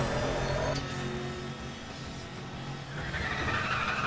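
A car skids and slides through corners in the racing game Need for Speed: The Run, its tires squealing over a loud, steady engine roar that carries straight through the whole stretch.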